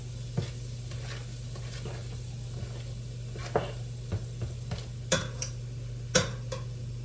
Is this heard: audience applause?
no